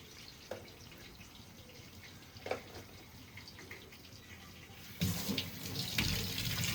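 Tap water runs into a sink as curry leaves are washed, a soft steady trickle with a few small splashes, swelling into a fuller, louder flow toward the end.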